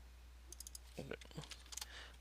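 Keys clatter on a computer keyboard as a value is typed in, a few light clicks followed by a quick close burst of keystrokes, with faint speech mixed in.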